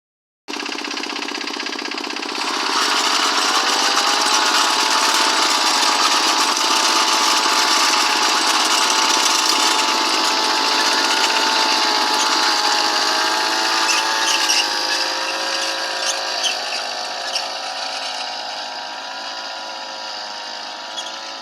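A vibrating potato digger driven by an angle grinder gearbox runs steadily outdoors, a loud continuous whining mechanical drone with a high-pitched gear tone that holds for the whole stretch and eases slightly toward the end.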